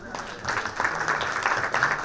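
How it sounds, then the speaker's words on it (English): An audience at a conference session on food security applauds a speaker, steady moderate clapping mixed with a voice talking over it. "can we have a huge round of applause for Mr."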